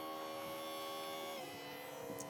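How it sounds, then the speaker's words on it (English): An electric tilt motor hums steadily as it raises a RIB's outboard engine at a slipway, a constant faint buzz with no voices. "So the engine goes up."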